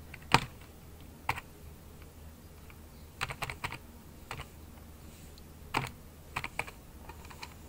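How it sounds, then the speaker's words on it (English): Someone types a software CD key on a computer keyboard, sparse clusters of sharp key taps separated by pauses, close and moderately quiet over faint background hum, with no voices. "I'm going to go ahead and type that in."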